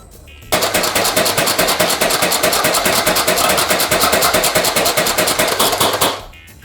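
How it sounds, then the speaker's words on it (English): A Lehui M1917 Maxim toy machine gun, a smoke-making Nerf-style blaster, fires a loud, steady rapid burst lasting about five and a half seconds, its mechanical rattle running unbroken from start to sudden stop. "this is a Nerf 1917 Maxim machine gun that makes smoke"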